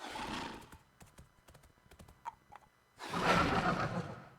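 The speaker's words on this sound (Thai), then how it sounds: "ม้าเหนื่อย" Horse hooves clip-clop in a quick series of light taps in the video game Monarchy, framed by two louder bursts of snorting and breathy noise at the start and end.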